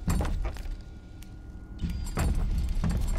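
Footsteps in the video game BioShock: a few soft, close steps and shuffles over a muffled game background, with a short quiet gap between them and no talking.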